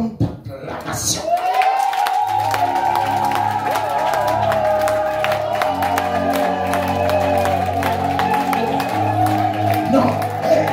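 A church congregation at an evangelistic service erupts in sustained cheering, clapping and shouting, a dense, loud crowd roar with music or a sustained tone beneath it that holds steady throughout.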